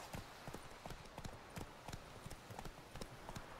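A horse trots in the fantasy video game The Witcher 3, its quiet hooves landing in an even, regular clip-clop pattern that sounds soft and slightly distant.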